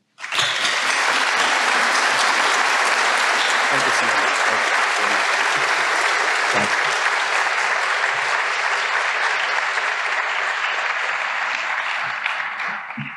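Audience applause welcoming Dean Kyongbum Lee at a Tufts Parents and Family Weekend welcome address: a large hall crowd clapping loudly and steadily for about thirteen seconds, starting abruptly and easing slightly at the end.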